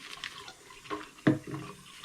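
Water runs and splashes over a glass or porcelain insulator being wetted for cleaning: a faint, short trickle with a few soft splashes.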